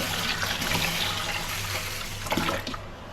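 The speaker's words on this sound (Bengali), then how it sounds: "এখন চালটাকে ধুয়ে নিতেছি, ধুয়ে একসাথে সব চাল ভালো করে ধুয়ে নিচ্ছ।" Rice being washed by hand in water in a home kitchen, a steady close wet swishing and trickling, like running or sloshing water, continuing throughout with no talk.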